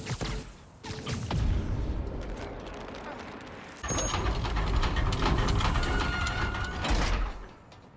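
A heavy mechanical rumble of a train moving along tracks in the video game Marvel's Spider-Man: Miles Morales, with clanking and grinding, cutting out briefly and then resuming louder.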